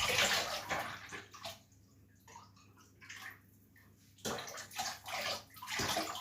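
Transparent glossy ceramic glaze is poured into an object and swirled inside it to coat the interior, giving a loud wet sloshing and gurgling pour that dips briefly in the middle before surging again.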